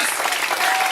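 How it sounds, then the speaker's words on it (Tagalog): A church congregation at an anniversary service claps hard and fast, a dense, loud, steady burst of applause filling the whole moment. "Yung gusto na kagalingan, pumalakpak na malakas."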